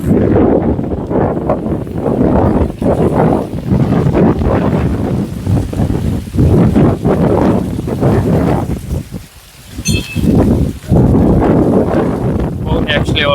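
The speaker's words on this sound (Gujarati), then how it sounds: "બહુ નેક્સ્ટ લેવલ પવન આવે, વધારે પડતો થઈ ગયો." Strong gusts of wind batter the microphone with loud, rumbling buffeting that eases briefly near the end before returning, and people talk through the noise.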